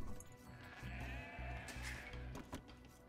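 Sheep bleating in the Age of Empires II video game, several short repeated game-sound bleats in a quick rhythmic series, clear and close over quiet background.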